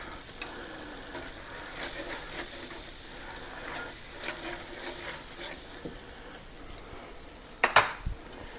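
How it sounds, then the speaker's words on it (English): Flour mixture cooking in a pan for a bacon Alfredo sauce, stirred with a utensil: a soft, steady sizzle with scraping strokes throughout, ending in a couple of sharp clinks against the pan. "I'm gonna mix that together. Let it cook for a minute just to get rid of the flour taste."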